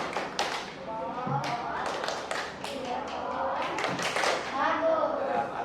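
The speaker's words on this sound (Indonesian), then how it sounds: "dulu tepuk jempol" An elementary school class does a rhythmic thumb-clap routine, with sharp claps and taps falling in a pattern while children's voices chant along loudly throughout.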